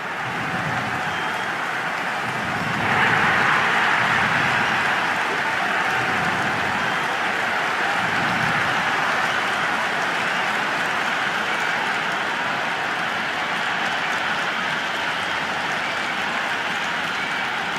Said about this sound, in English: The crowd are making a heck of a lot of noise even before the first ball's been bowled.